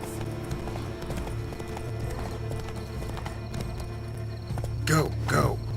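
Horse hooves clip-clop in a steady walking rhythm while riding through The Witcher 3, with faint voices and a whinny-like rising call near the end over a constant low ambient hum.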